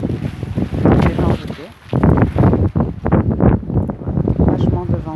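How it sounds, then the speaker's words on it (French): Strong wind in Dakar buffets the microphone in loud, gusty bursts of low rumble, continuous across the clip. "Vachement de vent aujourd'hui"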